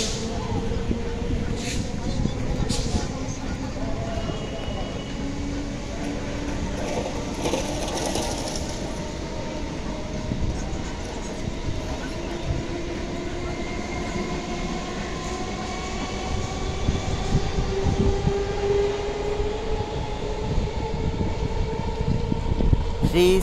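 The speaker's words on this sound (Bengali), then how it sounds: "37243 up Howrah Bandel local Chandannagar rail station platform number 3" Howrah–Bandel local train 37243 at platform 3 of Chandannagar railway station: a steady, loud rumble and rattle of rolling wagons, with faint squeals and clanks, continuing throughout.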